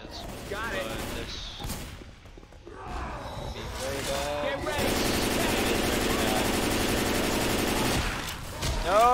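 Sustained rapid gunfire from a team fighting the Tank in Left 4 Dead 2 on the Dead Center campaign, dense and loud with automatic bursts, mixed with game effects and players shouting over it.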